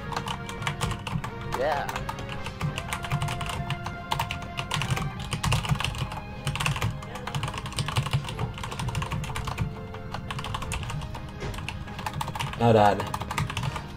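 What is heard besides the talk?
typing on a computer keyboard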